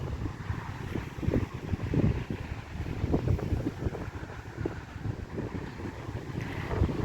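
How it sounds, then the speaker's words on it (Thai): Sea breeze blowing at Jomtien beach at night, a steady rumbling wind buffeting the microphone with gusty low-end surges throughout, no voices over it. "ลมเย็นสบายค่ะ"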